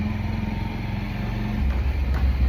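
A rattly old motorcycle rides along a road, its engine droning steadily and close, with low rumbling harmonics that swell slightly toward the end.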